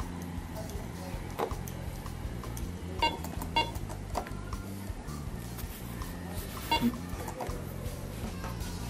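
Faint electronic beeps from a phone keypad as a number is entered, a few short tones scattered over steady background noise while people talk and chatter nearby.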